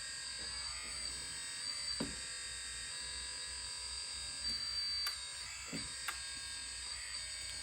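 The hydraulic pump on an RC Bobcat skid steer runs with a steady thin electric buzz and high whine, quiet and close, with a few faint clicks and knocks scattered through.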